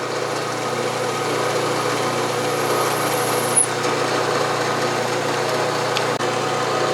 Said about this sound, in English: drill and ream the other one 1/8 inch